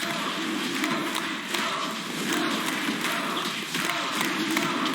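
Esports arena crowd at the EU Masters Summer 2019 League of Legends finals, BIG vs GIANTS Game 3: a dense, continuous roar of cheering and shouting that holds loud throughout, with a few brief dips.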